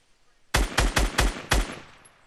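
Five rapid, loud gunshots from a weapon in the video game Fortnite, fired in a quick burst after a short quiet lead-in, with the last shot trailing off.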